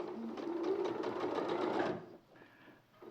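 Sewing machine stitching the top of a garment leg, a close, steady whirring run that stops abruptly after about two seconds, followed by faint handling noise.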